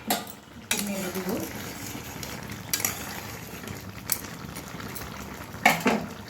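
A spoon scraping and clinking in a pan as crab bhuna is stirred after the lid comes off, with soft background clatter and a faint simmer between sharper metallic knocks.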